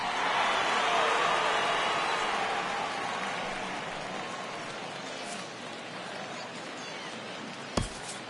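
A home crowd roars at a baseball game in MLB The Show 17, with the Binghamton Rumble Ponies going ahead in the bottom of the eighth. A loud, broad cheer slowly fades, and a sharp click comes near the end.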